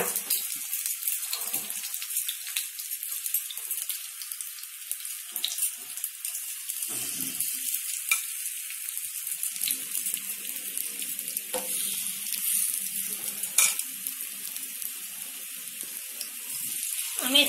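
Small flattened methi (fenugreek leaf) bara cooking in shallow oil on a dosa tawa, a constant bright sizzle and crackle held close throughout, with occasional faint knocks and scrapes and a brief murmur of a voice.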